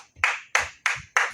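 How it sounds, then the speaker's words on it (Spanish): A church congregation claps in unison, four sharp, evenly spaced beats in quick succession, close and fairly loud with no voices between them. "Fuerte aplauso a Dios."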